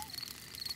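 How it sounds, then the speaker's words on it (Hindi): Insects chirping in an outdoor night scene from a cartoon, a faint, steady high-pitched trilling that runs through the short moment. "ये कीड़ों की चीची आवाज है।"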